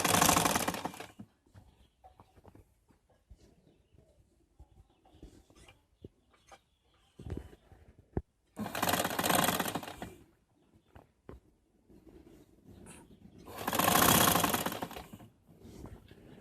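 A sewing machine runs in three loud, rapid bursts of whirring stitching on a suit collar near the buckram, separated by quiet stretches of faint handling clicks and fabric rustle.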